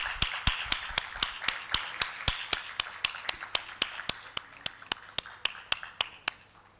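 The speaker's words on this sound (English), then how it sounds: "Can we have a huge round of applause, please?" Steady, evenly spaced claps at a medical conference ceremony, crisp and regular at about three per second, fading slightly toward the end with no voices over them.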